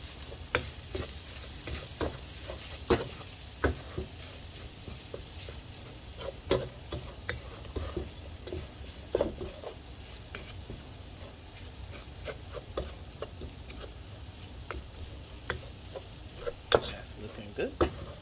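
Flour is stirred into sausage drippings in a sizzling pan for a country sausage gravy, with a steady hiss under repeated sharp scrapes and taps of the utensil against the pan.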